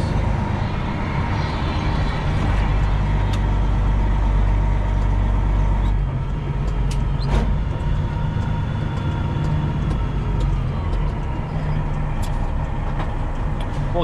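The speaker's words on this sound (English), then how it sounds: "The truck up there is making the turn as well." A big rig hauls a load through a turn on a road near a brewery entrance, its engine a constant low rumble with heavy road noise and occasional clanks, close and loud throughout.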